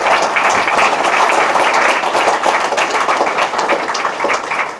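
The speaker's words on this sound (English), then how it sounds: "Just one more round of applause for the Riley family." An audience at a student center dedication gives a round of applause for the Riley family, loud, dense clapping that holds steady for a few seconds before starting to taper.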